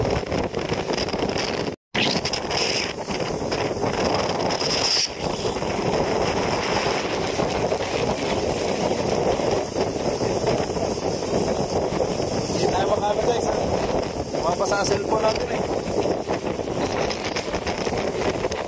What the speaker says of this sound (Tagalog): Lakas ng hangin eh.